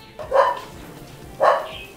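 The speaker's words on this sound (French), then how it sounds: "écoute comment même le chien t'aboie" A dog barks twice, two short sharp woofs about a second apart, fairly close, with faint background noise between them.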